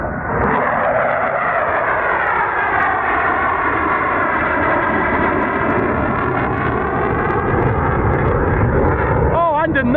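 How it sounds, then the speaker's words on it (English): F-15 fighter jets passing over Lake Bala, a loud, steady, continuous roar that holds without a break for the whole stretch, with a voice speaking over it. "I think they're F-15s."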